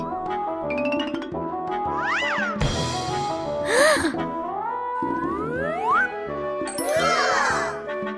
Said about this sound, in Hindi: डियाना की बिल्ली?